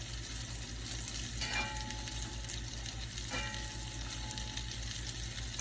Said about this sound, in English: So we're going to give all this a stir.